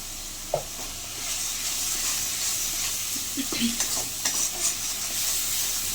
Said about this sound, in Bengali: আদা রসুনের পেস্টটা একটু ভালো করে নাড়তে হবে যাতে আদা রসুনের কাঁচের গন্ধটা না থাকে